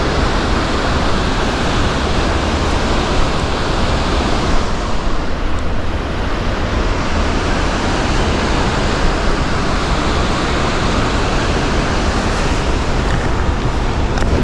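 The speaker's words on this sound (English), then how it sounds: "Serious waterfalls here." Willow River Falls pours steeply in a forested canyon, a loud, continuous broadband roar of rushing water that fills the whole stretch, with no voices.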